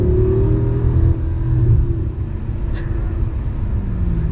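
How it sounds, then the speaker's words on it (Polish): A Mercedes-AMG C63 with 457 hp accelerates in comfort mode on a cold December road, its engine a loud, deep rumble that builds steadily, with a brief dip in intensity midway, heard from close by and without talk. "Dobra, przyspieszenie na trybie komfort."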